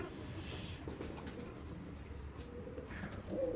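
Racing pigeons in a loft give soft, low cooing amid faint rustling background noise, quiet and murmuring throughout.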